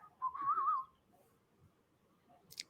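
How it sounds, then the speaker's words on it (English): One person whistles a short, warbling phrase lasting about half a second. It is fairly faint and close, followed by quiet room tone and a small click. "I'll just sit here and whistle for everybody"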